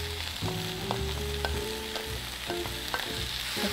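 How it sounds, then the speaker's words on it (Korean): Smoked duck with garlic and green onion stir-fries in a pan over medium heat, giving a steady, close sizzle broken by light scraping clicks from stirring, with no voices. "지금 볶겠습니다."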